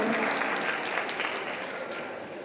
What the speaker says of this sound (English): a big round of applause once again for the Cigarron High School Orchestra